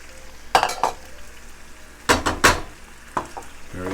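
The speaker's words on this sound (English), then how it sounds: "I'm going to add back in our eggplant that's been draining" Drained eggplant tipped into a hot pan for Sicilian rigatoni with swordfish, giving a few bursts of sizzling with utensil scrapes and clinks against the pan, separated by quieter frying.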